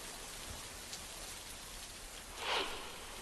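Heavy rain pours steadily, a dense even hiss of falling water with a brief louder swell near the end.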